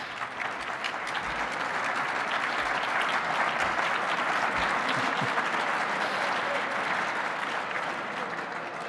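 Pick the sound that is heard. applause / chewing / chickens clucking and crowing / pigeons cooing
applause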